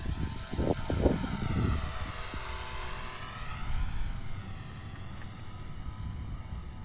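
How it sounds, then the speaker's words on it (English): Rage R/C Taylorcraft Golden Age micro RC airplane in flight, its small propeller motor giving a steady whining buzz that shifts pitch as it passes, loud at first then easing to a moderate distance, with no talking. "And it does kind of sound like a real plane."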